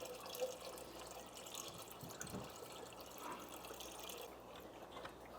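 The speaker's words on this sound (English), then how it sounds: "I'm gonna go and quickly add some water to it just to increase the water level." Tap water running steadily into an aquarium during a sponge filter setup, a continuous soft splashing pour that stays fairly quiet and even throughout, with no voices.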